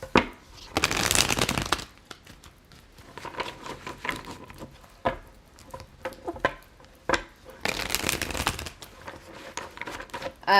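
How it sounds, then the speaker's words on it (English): A tarot deck is riffled and shuffled in two loud, crisp bursts, one early and one near the end, separated by softer tapping and handling of the cards, with no talking. "Two more shuffles."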